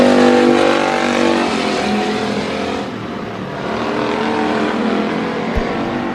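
Race cars roar around the track at Bakersfield Speedway, a loud sustained engine howl that swells and fades as the cars pass, with a brief sharp knock near the end.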